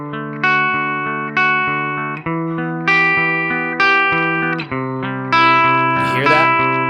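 An overdriven jazz guitar through a Line 6 Helix Jazz Rivet 120 amp model, drive turned up to full, plays a series of chords, each struck hard and ringing out with gritty distortion and a slow decay.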